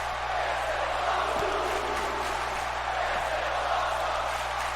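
A wrestling crowd roars at an indoor show, a dense sustained cheer throughout with scattered shouts, under a steady low hum.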